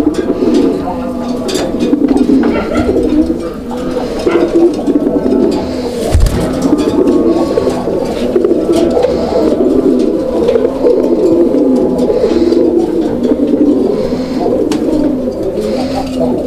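Raj Gola pigeons at a wholesale pigeon market coo in repeated, rolling low calls, close and loud, overlapping steadily throughout.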